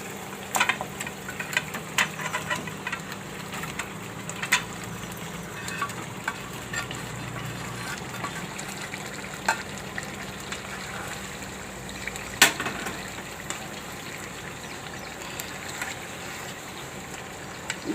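Potatoes simmer in a masala gravy for garlic potatoes in a pan, giving a soft, steady bubbling and sizzle with scattered small pops and clicks, quiet and continuous.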